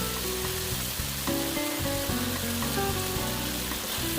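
Minced pork stir-fried with oyster sauce and dark soy sauce sizzles loudly and steadily in a hot pan for Thai basil pork, a dense continuous crackle close up with no talking.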